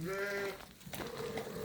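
A grey sheep bleats once, loud and close, a drawn-out wavering call that breaks off midway, with farmyard noise around it.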